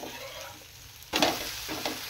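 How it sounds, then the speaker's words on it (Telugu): Karam dosa sizzles and fries on a hot pan, a steady crackling hiss that swells with a brief burst of stronger sizzling partway through, with no talking. "కారం దోశ అయితే వేస్తున్నాను"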